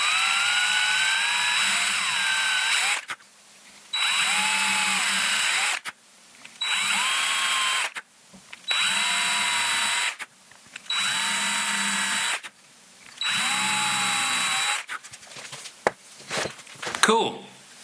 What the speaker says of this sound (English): get our pilot holes in for these screws